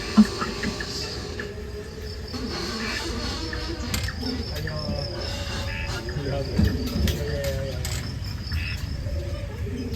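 A dense, steady chorus of crickets fills a night-time forest, continuous chirring trilling throughout, with soft rustles and faint bird or animal calls scattered in the background.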